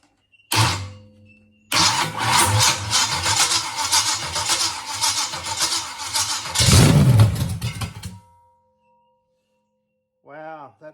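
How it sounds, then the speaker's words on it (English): A rodded 350 Chevy V8 in an HQ Holden Kingswood project, running without a water pump, cranks briefly, then fires and runs roughly for several seconds with a loud rev before cutting out; a voice follows afterward. "I'm going to see if I can actually get it to fire"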